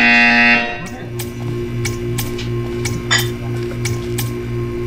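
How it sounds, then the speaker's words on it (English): A buzzer tone in Portal 2 hums steadily while a series of short, sharp clicks or clinks repeats at a regular pace. "You will hear a buzzer. When you hear the buzzer, stare at the art."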